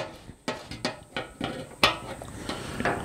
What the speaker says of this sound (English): We can go ahead and put those in some degreaser.